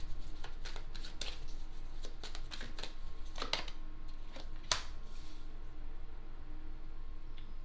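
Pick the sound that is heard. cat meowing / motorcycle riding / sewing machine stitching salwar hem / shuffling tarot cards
shuffling tarot cards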